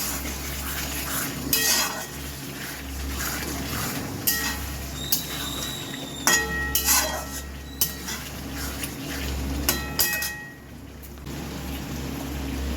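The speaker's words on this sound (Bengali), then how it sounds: "আরও কিছুক্ষণ ভালো করে কষিয়ে নেব।" Chicken kosha with chopped tomatoes being stirred in a pan, the spoon scraping and clinking against the metal in irregular bursts over a steady low hum, with no talking.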